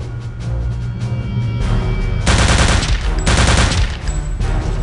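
Gunfire in Return to Castle Wolfenstein sounds as rapid automatic bursts, with two especially loud, dense volleys in the middle, over a constant game background hum.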